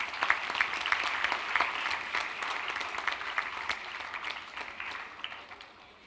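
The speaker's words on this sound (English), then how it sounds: "May we have a round of applause, please." An audience applauding at a university convocation ceremony, dense steady clapping from many hands in a large hall that thins and fades toward the end.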